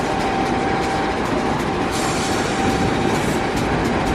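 A coal train rolls past close by early in the morning at Muswellbrook, a loud, steady rumble of wagons with continuous rail noise and faint wheel squeal throughout, no voices.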